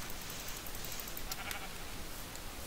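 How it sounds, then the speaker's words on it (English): Sheep bleating in the video game Minecraft, played with the Feed The Beast modpack on an island full of sheep; a few soft, brief bleats rise over a steady noisy background. "This island is densely populated with sheep."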